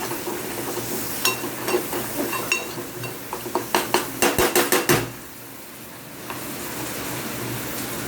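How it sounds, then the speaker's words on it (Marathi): Sprouted mung beans being stirred in a pan: a quick run of rhythmic metallic scrapes and clinks from the spoon against the pan for several seconds, then a soft, steady sizzle. No voices. "आता मी त्यामध्ये घालत आहे मूग. तरी हे छान मिक्स करून घेते."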